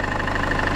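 A Land Rover Freelander 2 engine idles steadily while the car sits up on jack stands, a close, even rumble with no talking.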